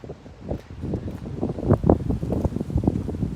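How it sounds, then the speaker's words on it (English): Strong wind blows outdoors beside fish ponds, roaring and buffeting close against the microphone in uneven gusts throughout. "I'm sorry guys if this wind is a little crazy."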